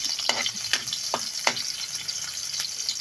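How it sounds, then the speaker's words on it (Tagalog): Garlic sizzles steadily in a hot pan, with a continuous close crackle broken by several sharp scrapes and stirring clicks. "So, unahin natin ang bawang."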